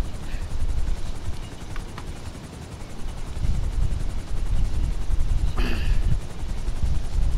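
A video-game helicopter idles on the ground, giving a steady low rotor and engine rumble throughout, with a brief sharper burst near the end and talk over it.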